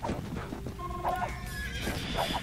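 A horse whinnies in the Age of Empires II video game as a cavalry unit is trained, a clear neigh in the middle with a second shorter whinny near the end over low background game sounds.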